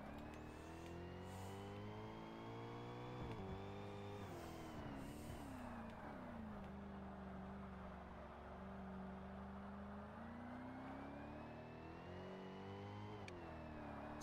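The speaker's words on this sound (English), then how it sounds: "Surprised that this car pulls away so well in third gear." A car in the Forza Motorsport racing game accelerating in third gear, its engine note climbing and falling through several rising whines with gear shifts over about fourteen seconds, steady and continuous, no voices.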